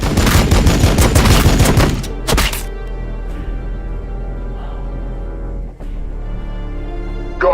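Heavy fire-support gunfire from the video game Warhammer 40k Battlesector: a loud, dense burst of rapid shots for about two seconds, one last heavy thud, then a low rumbling tail.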